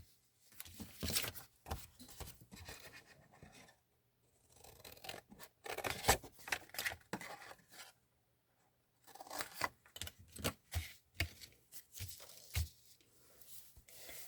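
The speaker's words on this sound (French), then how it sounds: "tous les rectangles, là, je vais les couper" Scissors snip through card stock, trimming rectangular corners off a handmade box card, in repeated short bursts of crisp cuts separated by brief pauses, close and clear with no talking.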